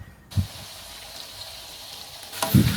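A steady crackling hiss of hot oil sizzling in a pan before frying pork belly, with a couple of low clunks at the start and end.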